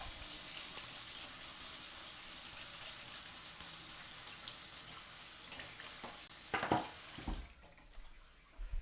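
Something is rinsed under a running kitchen tap while Sri Lankan dishes are cooked, a steady close hiss of flowing water with splashing bursts near the end before the tap shuts off abruptly.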